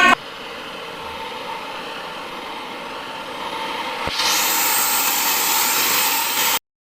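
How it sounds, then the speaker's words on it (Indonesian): Electric hand mixer beating sugar, two eggs and melted margarine into a batter, a steady whirring drone throughout that rises in pitch and gets louder partway through, then stops abruptly. "Lalu mixer hingga semua bahan teraduk."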